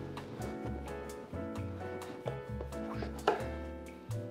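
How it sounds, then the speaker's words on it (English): A kitchen knife cuts down through a butternut squash on a cutting board in a series of chopping knocks that land unevenly over background music, with one sharper thud near the end. "then we're gonna cut it right down the center"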